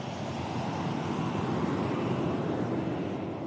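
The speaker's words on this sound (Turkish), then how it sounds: "Türk Hava Yolları'na ait yolcu uçağı piste ilerlemeye başladı." Turkish Airlines passenger jet taxiing at an airport during an outdoor press conference, a steady, loud engine roar and rumble holding throughout with no talk.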